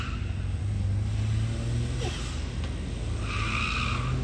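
Racing car at an autocross event at Vroom Racing Circuit, heard as a steady loud engine roar with a brief tire skid or squeal partway through, no voices.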